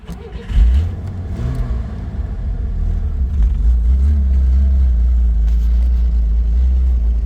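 A cold 1964 Corvair Monza 110 with a carbureted engine cranks and catches, then settles into a loud, steady low rumble that keeps running to the end.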